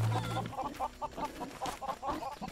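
A chicken in the video game LEGO Worlds clucks in a quick run of short, rhythmic notes, close and clear with no talk over it.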